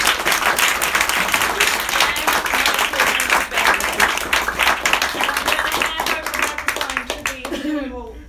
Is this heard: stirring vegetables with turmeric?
no